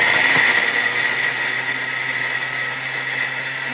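Thermomix food processor at speed 10 grinding ingredients into powder: a loud, steady, high-pitched motor whir with a harsh grinding roar, continuous and close, with no talk.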